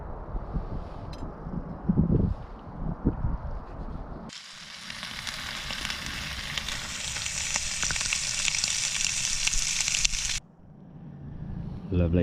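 Bacon frying on a Bushcraft Store camp stove during wild camping at a quarry in Snowdonia, rising to a loud, steady hiss of sizzling for several seconds before dropping back to quieter cooking noises.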